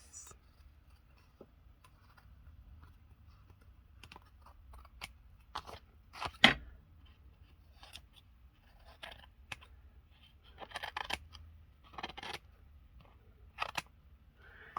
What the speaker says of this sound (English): let's just cut off the excess of my collage bits.